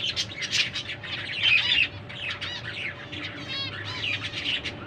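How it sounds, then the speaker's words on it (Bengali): Captive-born pet birds squawk and chirp while eating greens from a plate, with repeated bright, fairly close calls in short bursts over a quiet room with a faint steady hum. "কি দারুণ পাখিগুলো।"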